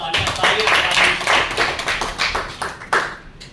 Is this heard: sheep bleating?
no